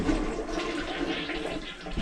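Toilet flushing over a household main sewer drain backed up by a clog, a loud continuous rush of water filling the whole two seconds, close and steady with no voices.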